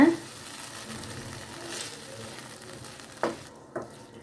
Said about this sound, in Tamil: இப்போ இது கூட சேர்த்து நல்லா வதக்கி விட்டுருங்க.